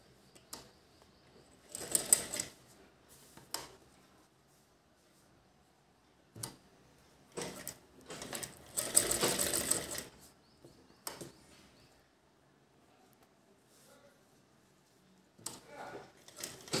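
A sewing machine stitches the cloth handle of a reused old shopping bag in several short bursts of rapid ticking, with quiet pauses between runs.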